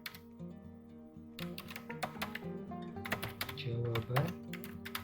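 Typing on a computer keyboard while filling in a Google Form: quick clusters of light key clicks, close but quiet, running under a steady speaking voice.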